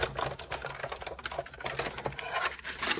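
A die-cutting machine cranks layered framelits through, giving a steady, close mechanical whirring and clattering with dense crackle throughout and no speech.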